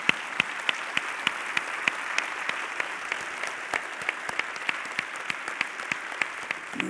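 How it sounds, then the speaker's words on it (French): At the international final of a French dictation contest, an audience claps in a steady patter with distinct individual claps popping through the wash, moderately loud and continuous with no talk. "cela mérite bien des applaudissements"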